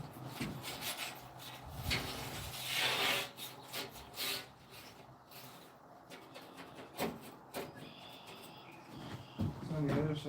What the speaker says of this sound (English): I even brought a nice little scraper